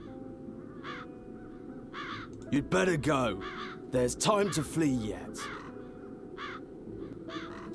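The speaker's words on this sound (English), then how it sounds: "More crows. Crows everywhere." Crows cawing repeatedly in the fantasy adventure game Chains of Satinav, short harsh calls spaced across the scene at moderate distance while a character speaks over the middle stretch.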